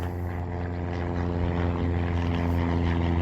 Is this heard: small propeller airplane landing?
yes